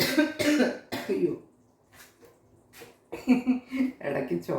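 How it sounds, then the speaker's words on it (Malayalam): A woman coughs several times in close, sharp bursts while cooking a curry with asafoetida, ginger, garlic and curry leaves; speech surrounds the coughs. "ഇടയ്ക്ക് ചുമ,"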